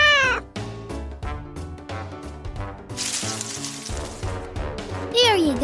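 A cartoon cat in a Daniel Tiger children's game lets out sliding meows at the start and again at the end, with bright, bouncy game music playing in between.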